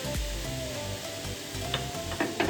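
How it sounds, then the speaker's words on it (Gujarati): Water flicked onto a hot iron griddle for moong dal dosa sizzles in a close, steady hiss with a few sharper spits near the end; no voices. "ઢોસાની લોઢી રાખી દીધી છે તો એ ગરમ થઈ ગઈ છે તો પહેલાં છે ને પાણી આપણે છટકોશું"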